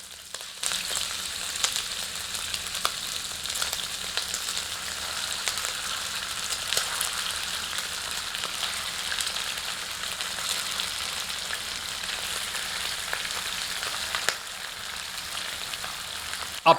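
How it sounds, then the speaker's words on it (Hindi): Chicken pieces frying in hot oil with bay leaf over medium heat, a steady close sizzle with faint crackles and pops running unbroken throughout, no talking. "अब इस तेल में चिकन को डालकर फ्राई करते हैं।"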